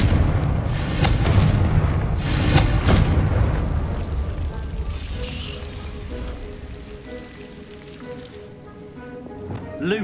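A Confringo spell blast in Hogwarts Legacy bursts as a loud booming explosion with crackling debris, rumbling and fading over several seconds into quieter ambience with faint tonal chimes.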